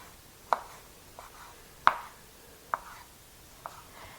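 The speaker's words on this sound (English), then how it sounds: "We're just going to chop these up." Drained quartered vegetables being chopped with a knife on a cutting board: four distinct, well-spaced chops, crisp and close, with quiet pauses between.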